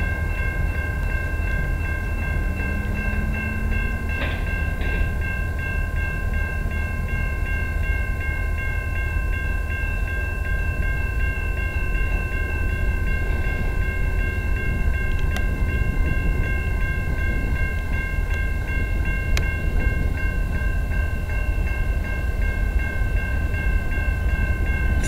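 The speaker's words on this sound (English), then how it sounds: "Here comes a CN westbound train." CN westbound freight train rolling past the London, Ontario rail yard at Egerton Street, a steady loud rumble of cars with a brief horn-like tone early on, heard alone without talk.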